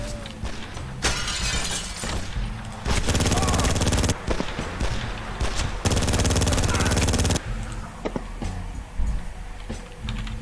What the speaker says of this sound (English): يا سلام على الرشاش.